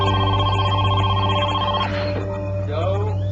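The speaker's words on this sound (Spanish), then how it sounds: "sonó el teléfono." A telephone rings steadily with a bright, repeating electronic tone over a low dramatic music bed, then gives way to a narrating voice.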